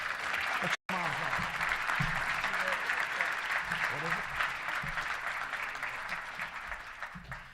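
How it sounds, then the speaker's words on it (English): A crowd at a touchdown club event applauds steadily, a dense wash of clapping that continues for several seconds and slowly fades, with a brief cut near the start. "let's give them all a round of applause"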